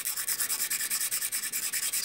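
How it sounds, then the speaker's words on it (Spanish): Sandpaper rubbed by hand over a worn overlock machine blade, a quick regular series of about a dozen rasping strokes, close and steady, with no voices. "tomamos la hoja de lija"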